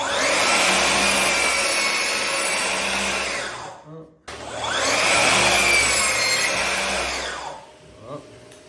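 Festool Symmetric saw cutting through wood, two long loud whining cuts of about four seconds each, separated by a short pause, close up with no talking.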